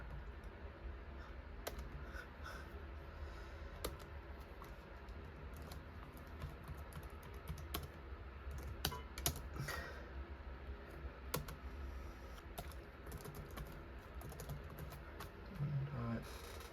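Keys click in quick irregular bursts as a password is typed on a Dell Latitude D630 laptop keyboard, close and fairly quiet, with sparse pauses between keystrokes.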